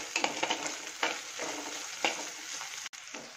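Dried anchovy thoran with chili being stirred in a pan, a soft sizzle broken by several quick scraping strokes of the spoon, close and fairly quiet.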